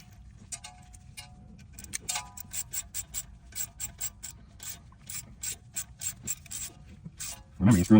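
A hand ratchet clicks steadily as it tightens a steel bolt through a plastic wheel speed sensor into a steel hub on a Ford Explorer, a close run of sharp rhythmic pawl ticks with a louder clunk at the end.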